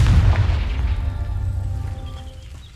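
A deep, booming Confringo spell explosion from Hogwarts Legacy, one loud blast with a long rumbling tail that slowly fades.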